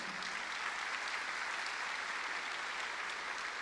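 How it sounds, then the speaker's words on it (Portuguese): A church congregation applauding, steady sustained clapping from many hands heard at a distance, fairly faint and even throughout. "Pode aplaudir ao Senhor, né?"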